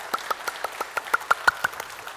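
Scattered hands clap at a conference keynote, about a dozen sharp separate claps in an uneven rhythm, close and fairly loud with nobody speaking.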